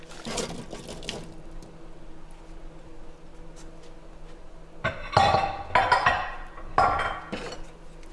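Beef stew with potatoes stirred in a pot, a quiet patch framed by clusters of scraping clinks and liquid sloshing as the spoon knocks against the pot, close and fairly loud.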